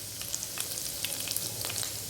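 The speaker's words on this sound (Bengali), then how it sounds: "তেলটা একটু গরম হলে তাতে রসুন কুচি ছেড়ে দিলাম। রসুনটা একটু হালকা ভেজে নিয়ে তাতে শুকনো লঙ্কা দিয়ে দিলাম" Garlic bits and dried chilies frying in hot oil for restaurant-style potato 65, a steady crackling sizzle with scattered sharp pops, close and fairly quiet, no talking.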